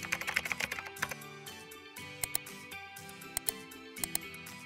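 Rapid, crisp key clicks from a computer keyboard as a domain name is typed, coming in quick bursts with short pauses, close by and heard alone.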